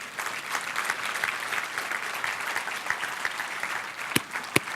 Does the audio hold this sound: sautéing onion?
no